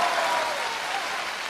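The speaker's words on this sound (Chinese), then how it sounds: "雷鸣般的掌声，" A live theatre audience at a Deyunshe crosstalk comedy show with Guo Degang and Yu Qian claps steadily, a dense, even wash of applause that holds briefly and then eases slightly, with no talking over it.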